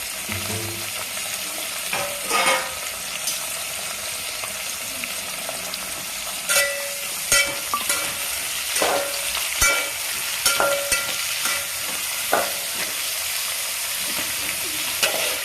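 Sliced onions fry in a pan for jeera rice and dal sambar, a steady sizzle broken by repeated scraping stir strokes at irregular intervals, close and without voices.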